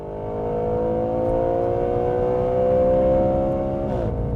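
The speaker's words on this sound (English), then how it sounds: "as soon as you step on the throttle, you're also going to hear the engine roar" A 2013 Audi RS 5 Coupe engine roars steadily and loudly as the car accelerates, its pitch climbing through a long pull before a brief dip near the end, with no talk.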